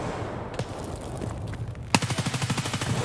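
Automatic gunfire in the video game Escape from Tarkov comes as a sharp crack, then a rapid, evenly spaced burst of roughly a dozen shots. A softer background of in-game ambience and faint earlier pops sits underneath.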